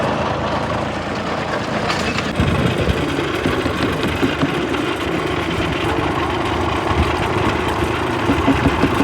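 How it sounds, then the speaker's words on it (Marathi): A tractor engine runs steadily on a dragon fruit farm, a continuous, fairly loud mechanical rumble with a busy rattling texture that holds throughout without a break. "आता चाललो ट्रॅक्टर घेऊनच."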